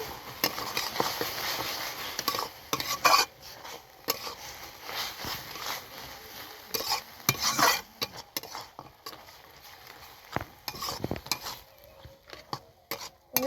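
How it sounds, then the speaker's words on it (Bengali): Fish curry with ginger and coriander leaves stirred in a pan, irregular scrapes and clinks of a utensil against metal over a faint simmer, close and quiet. "তারপর দেবো ধনে পাতা, তারপর একটু নাড়াচাড়া দেবো"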